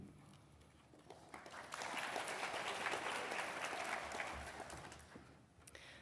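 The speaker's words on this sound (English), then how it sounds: "I'd like to have another special round of applause for our speaker" Audience applause fills a college Founders' Day convocation hall at Sweet Briar College, starting as scattered clapping, swelling into a full, dense ovation for a few seconds, then tapering off.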